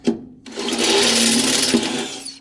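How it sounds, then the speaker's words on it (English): A step drill bit bores through the steel chassis of a Ford Raptor, a close, loud, whining grind lasting about two seconds after a short initial burst, then tapering off. "once you get that one drilled and you fly through here, you see it basically cuts through the chassis just like butter"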